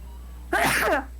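A single sharp sneeze bursts out close by, a quick intake then an explosive release lasting about half a second, against a faint steady hum.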